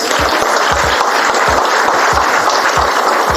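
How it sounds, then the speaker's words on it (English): Continuous loud clapping from an audience, a dense wash of applause with distinct nearby claps throughout. "So I want to give her a big round of applause."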